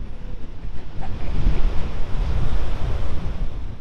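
Pacific Ocean surf rolls and washes continuously beneath Oceanside pier in California, a loud, dense roar with pulsing swells and gusts of wind buffeting the microphone, and no voices.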